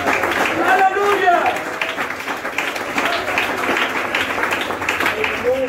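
A church congregation claps together for the Lord, a dense wash of applause running several seconds, mixed with shouting and voices of worshippers.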